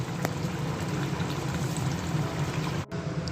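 Small fish and bori curry with potatoes being poured out, a soft continuous liquid pour with faint splashing and a low steady hum, quiet and unbroken until a brief stop near the end.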